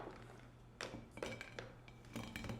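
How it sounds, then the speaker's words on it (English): A baked gluten-free peach tart with an almond cookie crust is lifted out of its pan, giving faint scattered metallic clinks and knocks in a quiet kitchen. "I'm gonna take it out of the pan here, and Izzy, let's put it on our"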